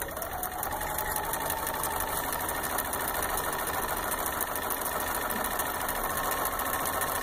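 Sewing machine stitching a quilt along the sew line at a quilting retreat, a continuous fast rattling hum at steady volume, close and alone without talk.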